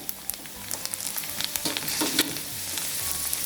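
Soaked mung lentils frying in hot oil in a pot, a steady close sizzle with scattered crackles and the scrape of stirring, no voices.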